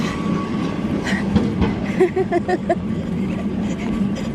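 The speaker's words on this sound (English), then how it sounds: "Oh, I hear a tram." A tram in Belem, Lisbon rumbles past nearby with a clattering of wheels on track and faint metallic squeals, steady and fairly loud.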